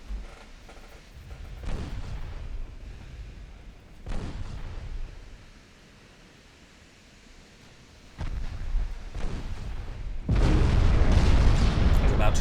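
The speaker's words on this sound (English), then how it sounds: "where is my battleship fire? There it is." Naval gunfire in the warship game Ultimate Admiral Dreadnoughts: heavy booming salvos roll out in several bursts, the last one loud and sustained, with a voice talking between them.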